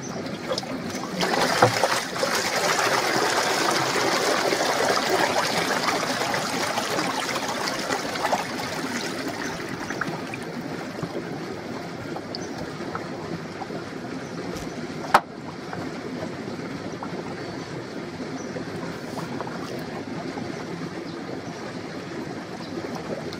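Water pours steadily into a cleaned-out koi pond up-flow filter tank, a continuous rushing trickle that eases a little partway through, with one sharp knock midway.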